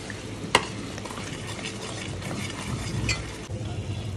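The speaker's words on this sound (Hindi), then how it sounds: "इसे अच्छे से हम थोड़ा सा भून लेंगे मसालों को" Salt, turmeric, red chili powder and coriander powder fry and get stirred in a pan for egg curry, giving a soft, continuous sizzle with scraping stir sounds and a sharp metallic clink near the start.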